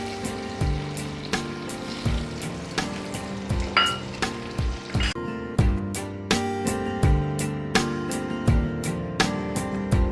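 Chopped onion, garlic and green chillies fry in a pan with a steady close sizzle, broken by repeated rhythmic scraping and stirring knocks and no talking.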